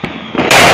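A single desi firecracker bursts during a Diwali celebration in Gohana, a loud sharp close blast that cuts in abruptly after a brief lead-in.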